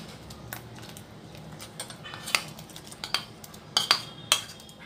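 Khoya is stirred into cooked milk in a metal pot for mango kheer, a spoon scraping softly and then striking the pot in several sharp clinks, close and otherwise quiet.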